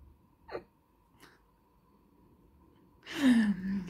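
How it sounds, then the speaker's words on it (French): A woman gives a couple of soft, quick hiccups in a quiet room, separated by silence. A louder breathy exhale with voiced sound follows at the end. "Excusez-moi, j'ai le hoquet."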